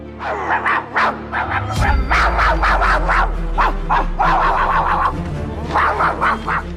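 Dogs bark in loud, rapid bursts, several yips and barks stacked close together over a low background rumble, with short pauses between volleys.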